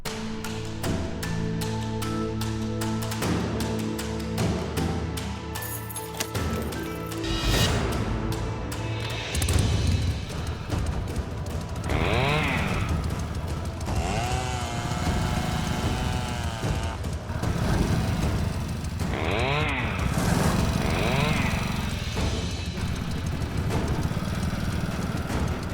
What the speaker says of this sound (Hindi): बाइक स्टार्ट कीजिए।